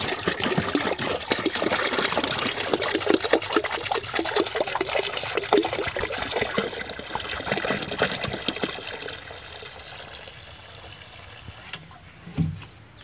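Water is poured onto lemon plants in an orchard, a steady, fairly loud splashing gush that runs for about ten seconds before thinning out, ending with a brief knock.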